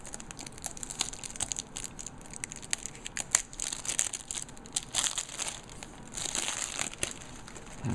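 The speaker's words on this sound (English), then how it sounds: "So take off this plastic wrap here." Crinkly plastic shrink wrap is peeled and torn off a Gurkha Godzilla cigar sampler box, a close, busy run of crackling and crumpling bursts that continues without pause across the whole stretch.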